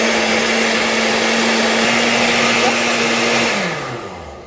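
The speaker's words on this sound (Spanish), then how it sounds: "Lo que quiero es que tenga movimiento aquí en la licuadora." A blender whirs chili sauce for tacos at a loud, constant pitch, its motor steady for over three seconds before it spins down as it is switched off.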